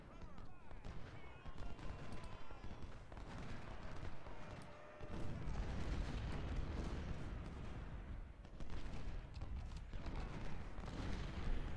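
Cannon and artillery fire from Civil War battle lines in Ultimate General Civil War, a continuous rumble of booms and distant musketry that swells partway through, with a voice talking over it at times.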